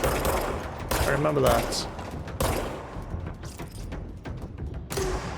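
Bursts of gunfire in the Control video game, a rapid fusillade of shots arriving in loud clusters separated by quieter gaps, with someone speaking briefly over the combat.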